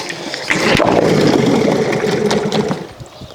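A gas engine on an RC boat starts after a few years of sitting. It catches with a loud, close buzzing run that holds for a couple of seconds and then eases off.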